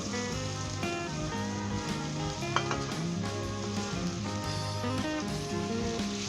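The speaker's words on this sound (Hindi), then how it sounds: "अब इसके अंदर हम ये 3 मीडियम साइज़ के जो मैंने आलू काट कर रखे हैं डाल देंगे।" Three medium cut potatoes frying in very hot oil give a steady, loud, continuous sizzle with crackling spatter, heard alone with no talking.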